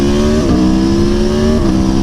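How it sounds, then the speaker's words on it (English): A motorcycle with its stock exhaust revs loud and close in a steady drone, its pitch stepping up and down slightly twice as the throttle shifts. "I've come to appreciate the stock exhaust."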